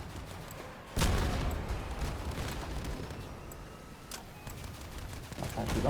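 Rapid cap gun fire in the vehicle combat game Crossout, a dense crackling barrage starting abruptly and continuing steadily amid other battle noise, with occasional sharper bursts.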